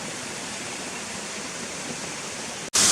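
A waterfall in the Yorkshire Dales rushes with a steady, broad roar of falling water, close and continuous, ending in a sudden sharp burst of noise.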